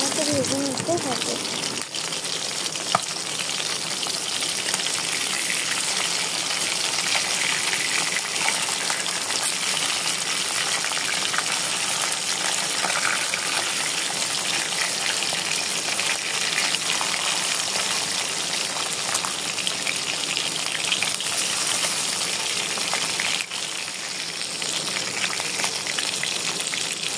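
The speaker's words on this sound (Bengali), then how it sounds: "মাখানো মাছ দিয়ে খুব ভালো মতো ভেজে নিতে হবে" Marinated fish frying in oil in a wok, a steady dense sizzle and crackle that runs unbroken at close range, with a brief clatter near the start.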